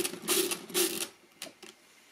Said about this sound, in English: So if I want to multiply this by 5, you simply turn the crank 5 times.